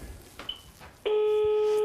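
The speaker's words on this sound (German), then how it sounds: "Ich habe ein Freizeichen." A steady telephone dial tone comes in abruptly partway through and holds loud and continuous after a quieter stretch of faint background noise and a brief beep.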